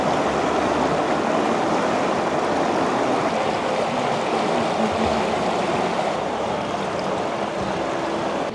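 The Yuna river in the Dominican Republic rushes past close by, a loud, constant broadband roar of flowing water with no pauses.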